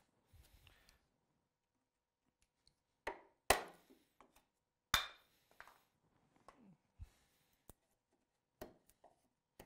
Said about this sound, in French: Pour enlever le plus gros, j'utilise un burin.